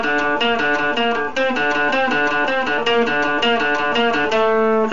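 An electric guitar plays a quick melodic riff, with busy single-note runs at steady volume, close and without any talking over it.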